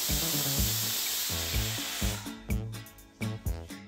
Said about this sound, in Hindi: अब कुकर बंद करेंगे और इसे दो से तीन सीटी दे देंगे।